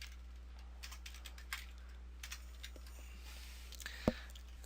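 Quiet typing on a computer keyboard: a short run of light, irregular key clicks over a steady low hum, ending with one sharper keystroke.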